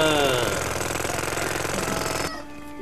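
A pneumatic drill in the Worms video game hammers in a rapid, loud, continuous rattle, then stops abruptly, leaving a quiet hum.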